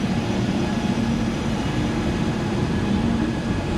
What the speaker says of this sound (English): Alright, this train is taking off here.